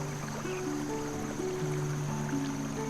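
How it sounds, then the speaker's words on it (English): In the adventure game The Night of the Rabbit, a brook gurgles softly and continuously, with a faint watery babble running under steady tonal background music. "It must have seen all kinds of things swim, float, and gurgle past in the brook."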